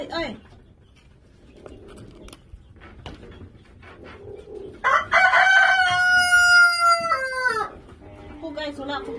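A rooster on a backyard chicken-keeping setup crows loudly once, a long harmonic call at close range, with faint clucking and scratchy sounds from the flock before it and a brief voice-like call after.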